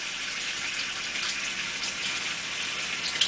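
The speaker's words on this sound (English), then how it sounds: "I got some cold water running in the sink" Cold water running steadily from a sink tap, used to cool a freshly laminated circuit board blank, a constant close hiss of flowing water with no talk.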